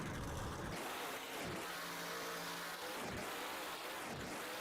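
A damaged monster truck engine revving at a monster truck event, loud rising and falling bursts of revving over the roar of a crowd, with no talking.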